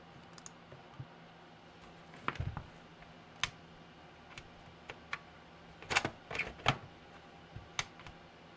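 An electric typewriter under repair is switched on, giving a scatter of faint isolated clicks and small mechanical clatters with quiet hum between them, no voices.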